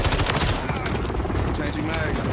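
Dense rapid gunfire from Call of Duty Modern Warfare 3 rattles loudly and continuously, close up, with a voice faintly under it.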